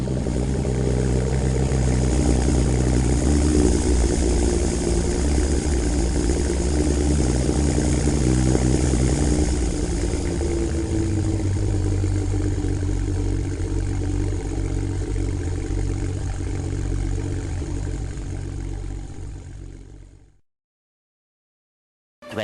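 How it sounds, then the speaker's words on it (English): Several Ferris lawn mower engines run together in a steady, loud, continuous drone that holds for about twenty seconds and then cuts off abruptly into silence. "go ahead and start all the engines and let them run a little bit"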